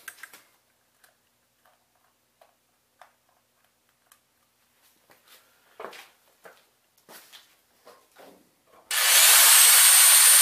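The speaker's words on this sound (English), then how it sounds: "I'm going to turn the agitator back on." A drill-driven agitator stirs a batch of 100% corn mash, starting with scattered quiet ticks and clicks, then kicking in as a loud, steady high-pitched whirring roar for the last second and a half.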